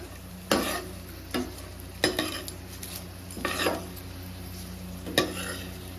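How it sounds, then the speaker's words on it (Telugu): Dry fruits fry in ghee in a pan, with a soft continuous sizzle underneath a few sharp spoon scrapes and stirring knocks against the metal at irregular intervals, close and fairly quiet. "నేనైతే డ్రై ఫ్రూట్స్ మొత్తం ఫ్రై చేస్తున్నానండి."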